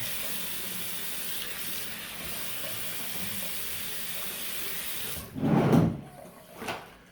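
A tap runs in a steady faint stream in a bathroom during a shave, then briefly gushes louder as something is wetted under it, followed by a second short splash.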